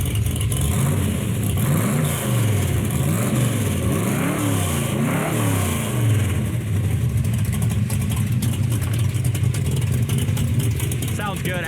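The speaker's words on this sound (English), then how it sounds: "Sounds good, axle dump exhaust." A 1972 Chevy Nova with axle dump exhaust revs close by, its deep engine rumble rising and falling in repeated throttle blips over a steady idle, with people talking over it.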